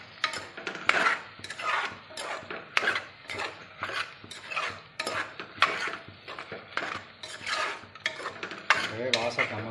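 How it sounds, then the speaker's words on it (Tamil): A spoon stirs tomatoes in a pot for home-made biryani, producing repeated close scraping and clinking strokes against the metal with faint sizzling beneath, in an uneven rhythm. "தக்காளி பழம் போட்டு நல்லா கிண்டி விடுங்க"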